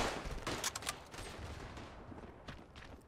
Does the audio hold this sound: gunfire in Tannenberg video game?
yes